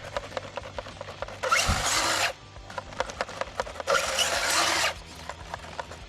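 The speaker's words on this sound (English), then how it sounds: "compressor will do the rest" Compressed air blasts muck off a Traxxas Rustler RC buggy in two loud hissing bursts of about a second each, with scraping and clicking handling noises between them.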